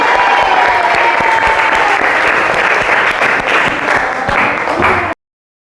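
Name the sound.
classroom applause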